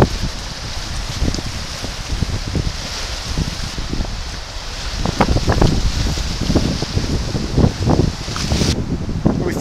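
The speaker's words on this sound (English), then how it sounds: "The wind has really picked up." Strong wind blows over Quetico Lake, a steady, loud rushing and buffeting on the microphone with gusty surges throughout.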